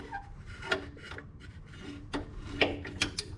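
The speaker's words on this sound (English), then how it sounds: "there is just enough room to get a wrench up in there and get it" Allen wrench working on the differential drain bolt of a Yamaha Rmax 1000, quiet close scrapes, rubs and small metallic clicks in irregular bursts, with no talk.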